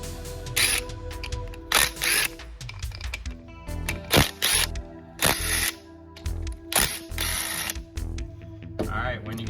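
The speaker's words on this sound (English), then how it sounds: "you are going to take out all of these 10mm bolts in the back of this pump" A hand ratchet backs out the 10mm bolts on the rear of a Ford F-series transmission pump, giving repeated bursts of close, sharp clicking with short pauses between them.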